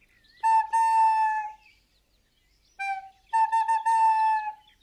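A recorder imitates a bird's song in two phrases of clear, sustained whistled notes, the first long and bending, the second broken into short stuttering notes before a held tone, with a pause between.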